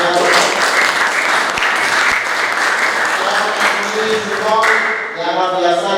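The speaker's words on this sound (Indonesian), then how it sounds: "Tepuk tangan untuk semuanya." A classroom of students applauds together in an Islamic religious education lesson, a dense, loud burst of clapping that fades near the end as voices start to rise.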